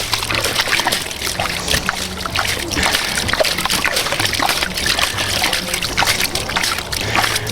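Water runs steadily over gold-prospecting sand from a home-improvement store, a continuous trickling and splashing wash with a constant level throughout.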